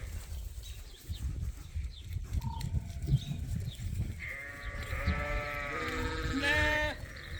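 Lambs and sheep bleat on an open pasture on a sheep farm, several overlapping calls rising through the second half over low wind and outdoor rumble, fairly close.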